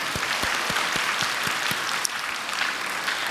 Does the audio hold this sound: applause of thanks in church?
yes